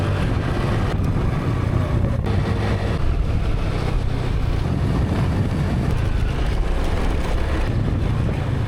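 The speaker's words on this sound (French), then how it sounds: "je vais vous filmer un petit peu mon trajet en scooter." Scooter ride through Cambodia near the Angkor temples: steady engine drone and road noise mixed with heavy wind buffeting the microphone, continuous and fairly loud throughout, with no talking.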